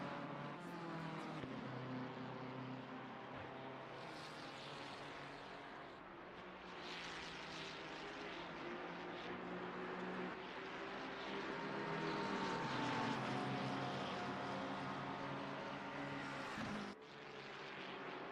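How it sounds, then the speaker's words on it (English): Engines of GT3 cars in a sim racing game roar and drone continuously as they sweep past, rising and falling in pitch, with a louder pass near the end and no talking. "Great sounds of the cars as they blast past our camera."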